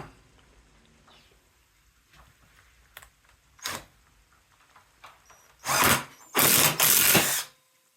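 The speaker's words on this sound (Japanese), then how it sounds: "正転でカチカチと音がするまで、インパクトドライバーを作動させます。" An impact driver powers a low-cost electric riveter attachment setting a metal rivet, with a few short whirs and then two louder, longer hammering bursts near the end, close up.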